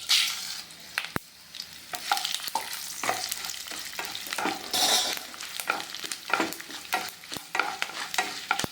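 Mustard seeds and urad dal splutter in hot oil, crackling and popping with sharp bursts, scattered irregularly over a soft sizzling bed, close and moderately loud.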